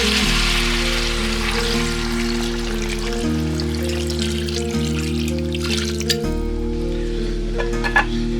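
Water is poured into a pot of sizzling beef with sliced onion and salt, a loud close hiss and bubbling frying sound that continues steadily under steady background music.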